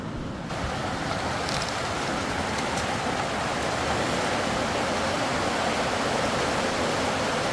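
Heavy rain pours down steadily during a thunderstorm in the countryside, a dense, even roar of water with no break and no voices.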